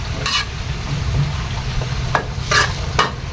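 Papaya and chopped fish curry being stirred in a pot, a few scraping strokes of a spoon against the pot with bubbling underneath, close and moderately loud, no talking.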